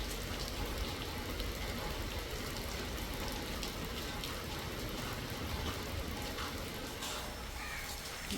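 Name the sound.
rain starting to fall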